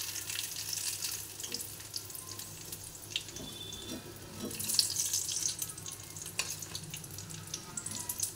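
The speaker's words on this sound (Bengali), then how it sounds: "দেখুন একদম কড়া ভাজা হয়ে যাচ্ছে।" Paneer chops deep-fry in oil with a faint, bubbling sizzle and occasional soft pops, quiet and continuous throughout.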